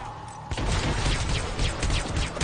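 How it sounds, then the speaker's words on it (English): Heavy, continuous gunfire in the Hitman: Absolution Chicago hotel mission, a loud sustained fusillade of overlapping shots that kicks in abruptly after a brief quieter moment. "Use cover to protect yourself from enemy fire"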